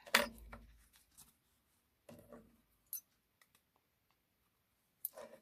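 Scissors snipping through paper ephemera while trimming a handmade tag-style piece, a few short crisp cuts with quiet gaps between them, close and fairly faint.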